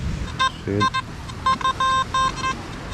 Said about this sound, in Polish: O, to jest dobry sygnał. Taki głośny, wyraźny